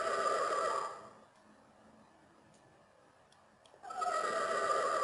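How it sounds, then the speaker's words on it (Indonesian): A horse whinny sound effect in an interactive multimedia presentation, loud at the start, then a quiet pause, then another long neigh rises near the end. "Keluar suara ringkikannya."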